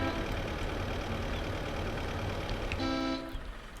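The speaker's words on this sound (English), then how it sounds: "So that's another person honking their horn over there." A truck horn honks in the war video game Foxhole: a single brief horn blast near the end, heard over a steady idling engine rumble, fairly close and moderately loud.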